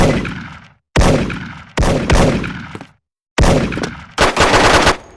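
Automatic gunfire in a shooter video game, several loud rapid bursts separated by short silences, the last burst denser and longer.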